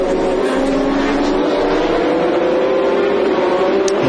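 A Vitaphone Racing Saleen S7 GT race car in a 2004 FIA GT Championship race at Oschersleben roars steadily at high speed, a loud, sustained engine drone with no break and no talk.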